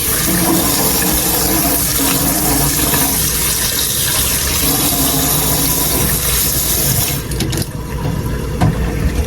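Tap water pouring steadily and loudly into a basin where radish is being soaked, a continuous close rushing stream that shifts and splashes briefly near the end.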